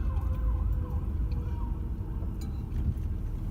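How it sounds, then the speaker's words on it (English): Fire truck siren passing in town, a wailing tone faint and distant beneath loud rumbling car-interior road noise. "See, there goes the fire truck."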